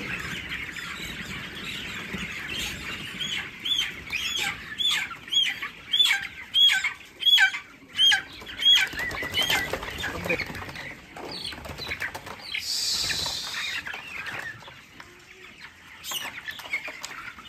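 Chickens in a poultry shed squawking loudly in repeated bursts while being caught, with wing flapping and scuffling between the cries, close by.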